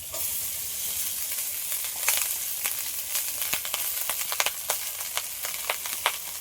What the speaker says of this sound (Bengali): হালকা করে ভেজে নিয়েছি এবার ভাতগুলো দিয়ে দিই